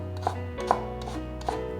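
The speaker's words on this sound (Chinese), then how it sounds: "接着切成细条状" A kitchen knife cuts a carrot into thin strips on a board, three crisp, separate chops spaced apart over a quiet background.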